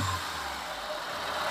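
A Proton Wira car with a Mitsubishi 4G93 engine idles nearby, giving a steady low hum with an even, unbroken drone throughout.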